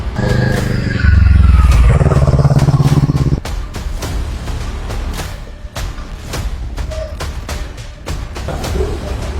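A motorcycle roars loudly and close in the opening seconds with a steady throbbing engine, then its sound drops away into clattering and scraping street noise as it passes by.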